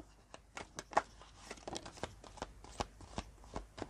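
Tarot cards shuffled for a general love reading, a dense run of crisp riffling and slapping bursts repeating steadily and close, with no talk over it.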